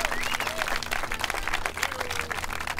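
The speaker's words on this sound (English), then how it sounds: "let's give them one more round of applause for getting us here today" Outdoor audience applauding at an Earth Day tree planting event in Ventura, a steady wash of clapping that fills the whole moment, with birdsong and faint voices mixed in.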